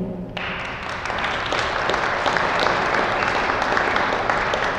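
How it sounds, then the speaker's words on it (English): A political crowd bursts into sustained applause for the assemblywomen. Dense clapping starts abruptly and holds steady and loud throughout. "I want you to clap after their names"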